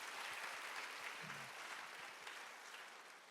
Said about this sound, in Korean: 하나님께 영광의 박수 올려드릴게요.